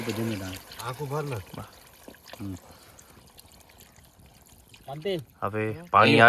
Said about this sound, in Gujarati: હવે આપણે પાણી નાખશું અંદર સાઈડમાં ત્યાં